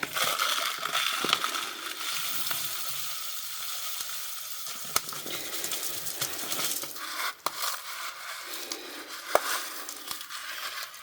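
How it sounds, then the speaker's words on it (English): Crushed black glass pours into a batch of epoxy resin, giving a steady gritty crackle and sizzle-like crunch throughout, with a few sharp clinks of glass pieces standing out. "So I'm just going to add the crushed glass directly into my epoxy resin."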